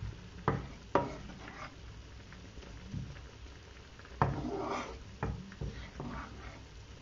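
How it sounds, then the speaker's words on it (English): Sage leaves fry in a pan with a faint, quiet sizzle, broken by a few sharp clicks and stirring knocks. "Our sage fry slightly."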